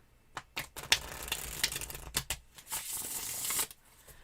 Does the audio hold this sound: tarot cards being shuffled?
yes